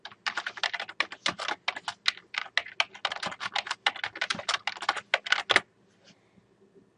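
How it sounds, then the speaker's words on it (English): Rapid clicks of a computer keyboard as an axis title is typed into an Excel chart, close and brisk with short uneven bursts, then stopping abruptly near the end. "highlight axis title and type in sales ability test score"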